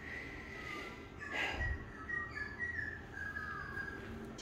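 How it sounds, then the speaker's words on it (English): Faint birdsong drifts in from outdoors, thin whistled chirps over a soft, steady background hum with a brief muffled thump. "Hear the birds out there."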